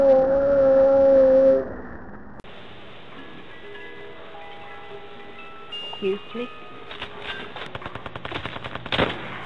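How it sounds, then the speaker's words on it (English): Rapid bursts of automatic gunfire from Call of Duty Zombies on the Der Riese map, with a sustained loud volley early on, then quieter, scattered shots and clatter running under the game's ambient tones. "I was shooting at the wall and I didn't realize that I was hitting them"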